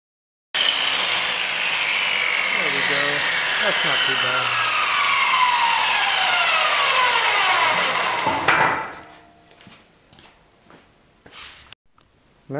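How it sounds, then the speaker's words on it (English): A chop saw cuts through wood for a ladder golf game, its blade whining loudly and steadily for about eight seconds before spinning down, followed by a few clatters and knocks. "I'm going to try and knock off as much of this as I can with the chop saw here"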